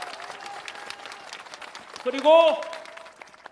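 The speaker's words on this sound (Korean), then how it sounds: "박수를 한번 크게 올려주십시오." Crowd applause rings out at an outdoor rally in front of the National Assembly building, steady scattered clapping under a speaker's voice, with a loud whistle or horn-like tone cutting in briefly.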